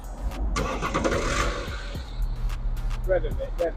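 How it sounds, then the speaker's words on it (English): A BMW diesel car engine, stage 1 tuned to over 250 bhp, cranks and catches, then settles into a low, steady idle, with a person speaking briefly near the end. "this one, it sounds quiet for a diesel"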